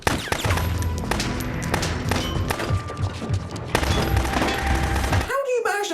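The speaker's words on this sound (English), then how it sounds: "Fire a machine gun at 2 people in a narrow alley and manage to miss both of them." Machine gun fire rattles through a narrow alley during a gangster movie shootout, as loud sustained bursts mixed with booms, ricochets and impacts, then cut off by the sharp whine of a passing shot.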